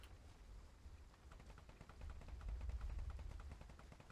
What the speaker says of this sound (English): Ooh, gunfire.